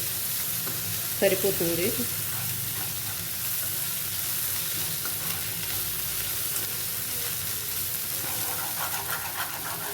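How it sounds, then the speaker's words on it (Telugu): Ginger garlic paste frying in hot oil for a chicken curry, a steady loud sizzle throughout with occasional scraping and stirring, and a brief spoken word early on. "అల్లం వెల్లుల్లి పేస్ట్ ఆయిల్లో వేగటం వల్ల మనకి కర్రీ చేసుకునేటప్పుడు మంచి సువాసన వస్తుంది"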